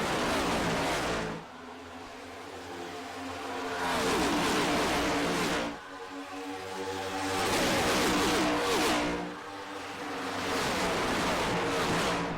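Next Gen Cup race car engine in a NASCAR-style racing game at Chicagoland Speedway, loud and close, revving up through the gears in repeated rising sweeps with short dips at each shift.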